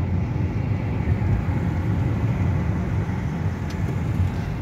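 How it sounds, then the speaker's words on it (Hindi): Steady low road rumble and drivetrain hum from inside a Toyota Aqua hybrid on the move, constant and moderately loud with no voices over it. "हम गाड़ी ड्राइव कर रहे हैं,"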